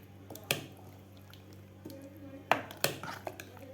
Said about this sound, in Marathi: आता व्यवस्थित आपल्याला हलवून घ्यायचं आहे.